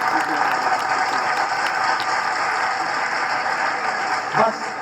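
A crowd claps for children at a school award ceremony in a dense, continuous wash of applause, fairly loud and sustained throughout.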